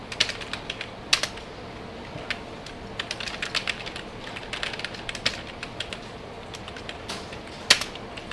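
Fingers tapping on a computer keyboard in irregular bursts of clicks, with one or two sharper keystrokes, close-miked and moderately quiet over a faint room hiss, no voices.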